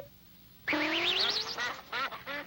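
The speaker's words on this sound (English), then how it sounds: "7 ducks." Ducks quacking in a children's counting segment, several bright, wavering quacks starting suddenly and repeating in short bursts, loud and close with no talking.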